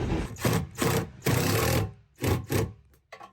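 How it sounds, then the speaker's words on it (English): A long custom drill bit drives #10 screws through a pontoon boat seat bracket, heard as five or six short whirring bursts with brief pauses between them, close and fairly loud, then a few quick stuttering pulses at the end. "we're gonna take our super long drill bit, custom made, and we're gonna put these number 10 screws in our bracket to hold everything in place"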